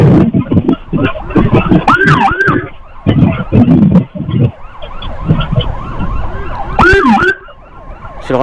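Loud ambulance siren wailing and yelping on a road during a vehicle escort, rising and falling sweeps repeating over steady traffic noise, with brief horn-like bursts near the end.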